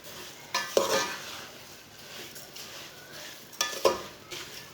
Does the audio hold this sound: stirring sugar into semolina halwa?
yes